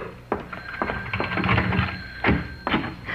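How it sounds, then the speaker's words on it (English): An old-style telephone bell rings in a few bursts with clattering thumps between them, fairly close and moderately loud. "Oh, that's our phone, Nick."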